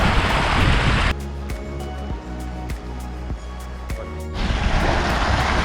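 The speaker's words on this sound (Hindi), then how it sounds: "यही जो वाटरफॉल हम क्रॉस करके आए हैं उसकी स्ट्रीम्स हैं" A mountain stream fed by a waterfall in a valley near Bhaderwah, Jammu, rushes in loud, close broadband splashing at the start and end, with a quieter stretch in between carrying tonal, music-like sound.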